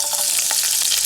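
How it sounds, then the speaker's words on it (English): Freshly cut seasoning hits hot oil in a pot, giving a bright, dense, close sizzle that crackles steadily for a moment. "add freshly cut seasoning to the pot to soak up all in the oil"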